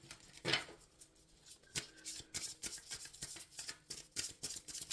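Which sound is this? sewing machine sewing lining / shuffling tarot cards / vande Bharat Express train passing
shuffling tarot cards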